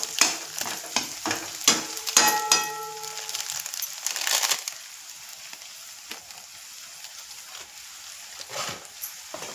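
Capsicum and potato vegetable is stirred in a pan, with several scraping, clattering strokes and a light sizzle early on, then quieter intermittent stirring sounds; nobody speaks.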